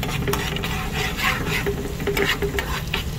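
Ginger frying in a pan at home while being stirred, a continuous close sizzle broken by repeated scraping strokes of a utensil against the pan.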